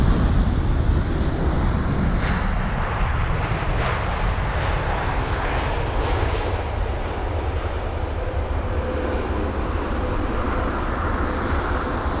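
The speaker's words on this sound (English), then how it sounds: "It's a brand new aircraft." Brand-new airliner arriving at London Heathrow on a windy day, a steady loud jet engine roar with broadband rumble and wind buffeting on the microphone, continuous for the whole stretch without talk.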